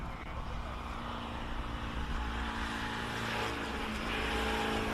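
Classic car engine straining at full effort on the Simola hillclimb, a steady, loud, sustained roar that swells slightly toward the end, with no talk over it.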